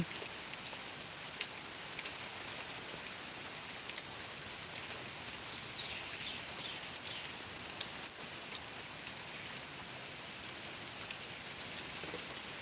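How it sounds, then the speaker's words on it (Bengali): Light rain, the first of Boishakh in Bangladesh, patters steadily and softly outdoors for the whole stretch, a fine even hiss with scattered drip taps and no talk. "অনেকটা কমে গেছে বৃষ্টি"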